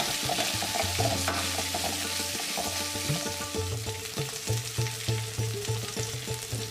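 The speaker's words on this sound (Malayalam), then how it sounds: "കുറച്ച് കറിവേപ്പില ചേർത്തിട്ട് ഒരു മിനിറ്റ് നേരം നമുക്ക് നന്നായി വഴറ്റിയെടുക്കാം" Onion pieces and curry leaves sautéing in a pan for idli sambar, a dense, continuous sizzle with a spoon stirring and scraping rhythmically throughout, loud and close.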